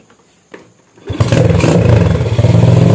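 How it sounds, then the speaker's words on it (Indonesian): A motorcycle engine starts after a single faint knock and then runs steadily and loudly, idling after a stuck piston pin was freed. "Oke, kita tes suara mesinnya teman-teman ya."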